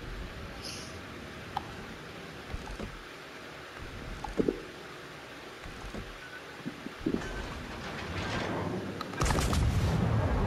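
Naval gunfire in World of Warships Legends, a warship's guns firing on an enemy ship: scattered booming shots and thumps over a steady sea and engine rumble, with a heavier burst of fire near the end.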